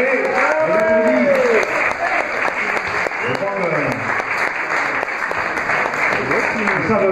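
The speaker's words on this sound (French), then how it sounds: "On pourrait applaudir un peu plus fort, messieurs dames, madame. Allez, on applaudit." A theatre crowd at a comedian's show in Gruissan claps in a sustained, full round of applause while a voice carries on talking over it throughout.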